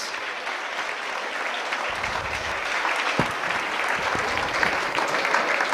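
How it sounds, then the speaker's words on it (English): A lecture audience at a university gives a speaker a round of applause after a science talk. Sustained clapping begins fairly soft and grows fuller and closer, with scattered louder claps and no voices. "A big round of applause."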